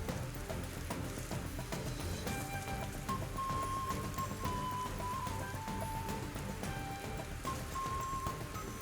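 Steady rain falling over a modded Skyrim landscape, a continuous even hiss with a faint game melody and soft tones layered over it throughout.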